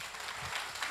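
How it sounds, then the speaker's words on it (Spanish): A church congregation claps in a brief, steady burst of applause, evenly dense throughout with no voices standing out. "un aplauso al Señor"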